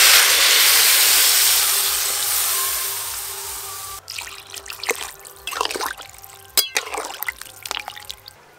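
Water pours steadily into a frying pan of fried spice paste for a thin fish curry. A loud, continuous gush lasts about four seconds, then gives way to scattered clinks, scraping and light splashing.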